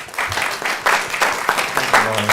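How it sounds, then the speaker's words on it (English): A small audience at a city council meeting claps in a short, loud round of applause. The individual claps are uneven and close, and a brief voice comes in near the end. "let's give a round of applause"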